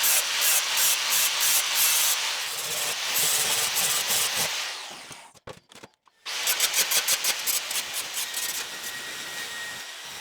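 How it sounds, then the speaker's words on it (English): An angle grinder cuts off a bolt on a steel machine pulley guard, a loud sustained whine with rhythmic pulses that cuts out briefly near the middle, then restarts and keeps grinding steadily. "I'll grind off this bolt"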